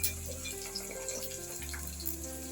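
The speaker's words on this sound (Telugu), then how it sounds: "వేడి వాటర్ ఇందులో వేసేది" Hot water pours steadily into a bowl of soya chunks in a home kitchen, a continuous close gushing splash with a faint steady hum underneath.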